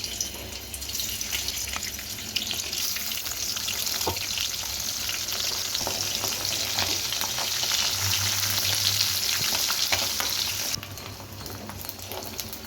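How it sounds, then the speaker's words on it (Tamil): Dried fish, a banana-type karuvadu, frying in oil, giving a loud, dense and continuous sizzle that stays close and steady, then drops slightly near the end. "முதல்ல கருவாடை எண்ணெயில் வறுத்து எடுத்துக்கலாம்"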